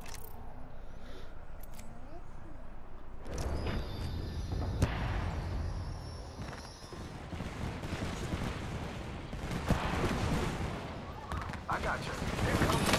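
Gunfire in the video game Apex Legends: after a quieter opening, dense bursts of rapid shots and explosive cracks fill the rest, loud and continuous.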